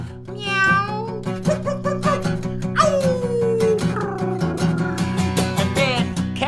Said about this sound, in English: Let's hear some cat and dog sounds.